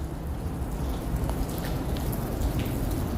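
Steady rain falls outdoors on a chilly day at a college campus before classes, a continuous broadband hiss of drops on surfaces with scattered louder patters, no voices.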